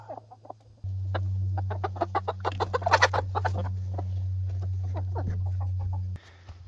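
Several hens cluck in quick, overlapping bursts over a steady low hum, the clucking peaking midway then thinning out, with a rooster among them.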